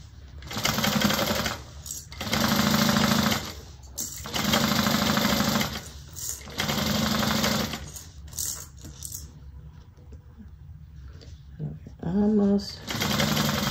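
A sewing machine stitches a Joseph bag at about 4 on the straight edges and 3.5 on the curve, running in several loud bursts with short pauses between them and a softer stretch of fine stitching near the end. Light talk comes between runs.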